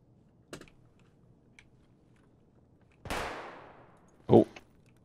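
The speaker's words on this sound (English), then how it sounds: "Someone just shot." A single loud gunshot rings out in Escape From Tarkov with a long decaying echo, then a sharp close bang follows about a second later, with faint small clicks scattered across an otherwise quiet background.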